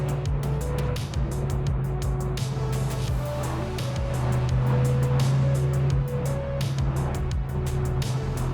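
A Ford Mustang GT with a 5-liter V8 drives along a road, its engine droning steadily from inside the cabin with shifting tones as it pulls and cruises.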